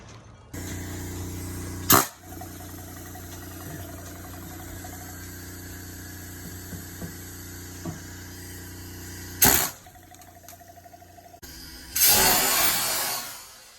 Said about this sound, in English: Let's see what this air hammer does.